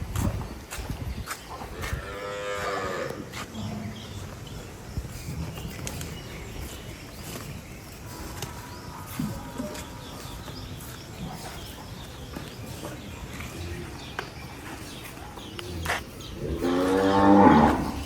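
A cow moos loudly nearby early on, then a long quiet stretch with shuffling, and another deep, drawn-out moo at the end, in a cow shelter.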